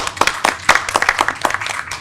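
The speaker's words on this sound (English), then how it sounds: "So let's clap that for Africa." Audience clapping at a regional water security conference session, irregular claps ringing out through two seconds, moderately close and a little loose rather than a full dense ovation.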